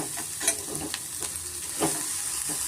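Methi matar gravy masala frying in a pan, a soft steady sizzle with a few louder scraping stirs of a spoon through the mixture, close and alone with no voices.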